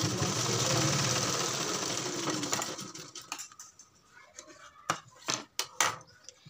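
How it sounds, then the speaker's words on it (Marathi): A sewing machine stitches a back-neck blouse design with a steady whir that stops partway through, followed by scattered clicks and light handling knocks. "मशीन फिरून घ्यायची"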